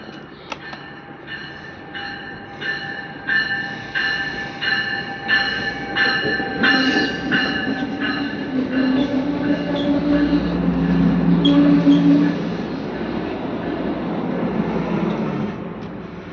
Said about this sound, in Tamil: நம்ம ட்ரெயின் வந்துடுச்சு.